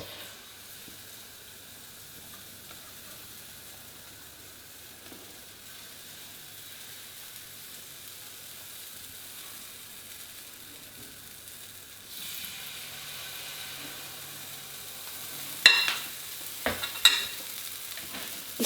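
Thai sweetcorn fritters flecked with coriander fry three at a time in a pan. A faint low hiss swells into louder sizzling as they go in, followed by a few sharp clatters near the end.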